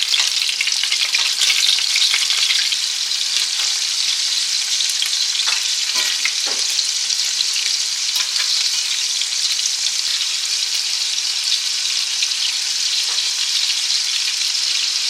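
Meatballs fry in a pan with a strong, continuous sizzle. A few brief scraping clicks partway through mark them being turned, and no voices are heard.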